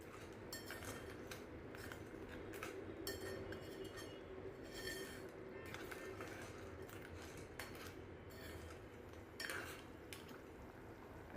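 A spoon clinks and scrapes against a cooking pot while a Malvani-style clam curry is stirred. The rattling and tapping are close and steady, with no talk.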